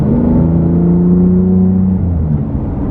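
A catless BMW F80 M3 with a single mid-pipe exhaust drones with a deep, throaty engine note, loud and steady from inside the cabin, the pitch sliding slightly as the revs shift.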